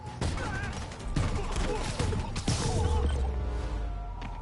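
Dense, loud gunfire from the Spider-Man Remastered video game crackles in rapid bursts over a rumbling battle mix, with impacts and crashes mixed in.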